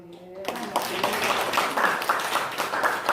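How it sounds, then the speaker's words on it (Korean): A church congregation claps in applause during a Sunday worship service, with a burst of many hands starting abruptly after a brief spoken line and continuing steadily, fairly close and lively. "박수."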